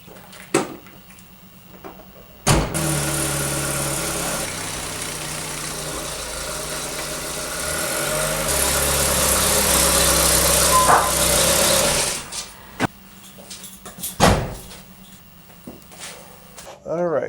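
A Chevrolet Cavalier engine starts and idles with a steady, rumbling drone for about ten seconds, then shuts off, followed by a few scattered clunks and knocks.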